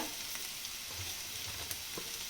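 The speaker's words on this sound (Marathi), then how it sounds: "आता कांदा तळून घेते चांगला चांगला" Onion frying in a pan for egg bhurji: a soft, continuous sizzle with faint stirring scrapes, low in level and heard alone.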